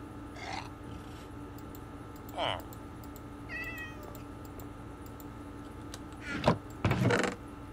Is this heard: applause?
no